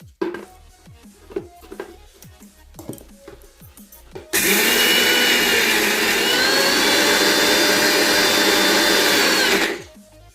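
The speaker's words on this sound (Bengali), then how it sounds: "জল ঝরানোর ডালটা মিক্সিং বাটিতে পেস্ট করে নিচ্ছি প্রথমবার আমি একটু পিসবো তখন জল ছাড়াই পিসে দেখাচ্ছি দেখুন" An electric mixer grinder runs loud and steady for about five seconds, grinding drained soaked lentils into paste with no water added. Before it starts there are scattered clinks and knocks of handling.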